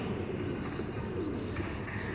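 Pigeons, many with white markings, coo softly against a steady outdoor background rumble, their calls faint and intermittent throughout.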